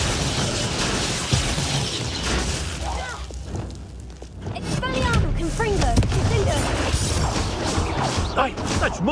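Confringo explosive spell blasts in Hogwarts Legacy, several booming bursts and crashing impacts mixed with clanking mechanisms and busy combat effects, with voices talking over the fight.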